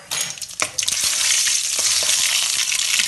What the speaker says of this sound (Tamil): சட்டி வச்சு எண்ணெய் சூடு ஏறிட்டுது. நான் இதுக்கு இப்போ கடுகை போடுறேன்.